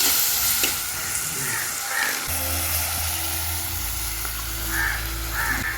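Onions and tomatoes fry in a pan with salt, giving a steady close sizzle throughout, with occasional faint bird caws in the background and no talking.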